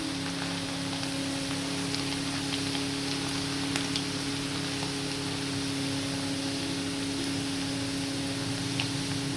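Homemade French fries fry in hot oil, giving a steady, dense sizzling hiss that stays even and close throughout with no talking.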